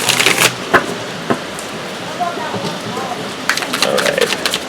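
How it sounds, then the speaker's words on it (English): Heavy rain pours down in a steady, fairly loud broadband hiss, with sharp spattering drops bursting through at times and a voice speaking intermittently over it. "Oh, it's really raining now."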